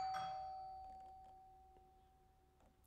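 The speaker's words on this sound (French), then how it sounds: "Ce n'était pas du tout un son de sonnette ajouté en post-production" A doorbell in a home studio rings once with a soft chime, its tone fading slowly over a few seconds into quiet room hiss.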